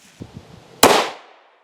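A single sharp gunshot from a 5.7 pistol firing an SS-190 5.7x28 round, cracking loudly after a few faint knocks and decaying over about half a second with no talk.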